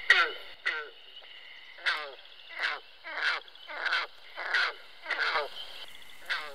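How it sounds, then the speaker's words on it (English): Green frog calling at an outdoor pond, a series of about nine short, twangy, plucked-sounding croaks spaced roughly evenly, each a brief rough burst against a quiet background. "This is what the green frog sounds like."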